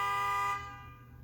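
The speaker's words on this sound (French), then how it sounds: "Bonjour le klaxon." A car horn gives one short, loud honk that cuts off sharply after about half a second, with no voices heard.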